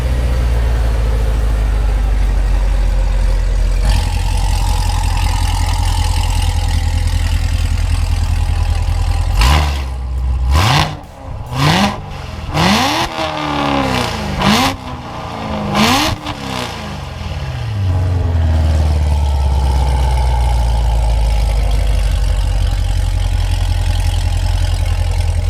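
Chevrolet C7 Corvette Z06 engine idling with a loud, deep rumble, then several sharp revs climbing and dropping in quick succession before settling back to a steady idle, close up.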